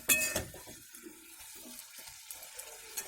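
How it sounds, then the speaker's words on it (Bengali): Water is poured into a cooking pan holding a fish head for a bottle gourd leaf pituli dish. A short splash comes first, then a quiet trickle and faint bubbling, heard close and softly. "এবার আমি অল্প করে জল দিয়ে দিচ্ছি"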